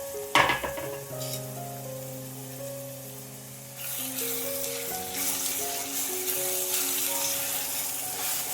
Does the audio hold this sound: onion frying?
yes